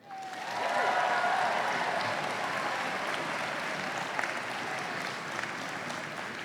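An outdoor commencement crowd clapping, a broad steady wash of applause that rises quickly and holds at an even level, with a faint cheer near the start.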